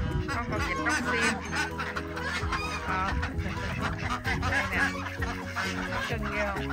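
Flock of ducks and geese on a garden farm, with dense overlapping quacks, honks and clucking calls carrying on continuously at close range.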